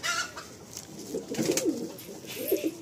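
Andhra pigeons coo in a few soft, throaty bursts close by, with low rolling calls rising and falling over faint background rustle.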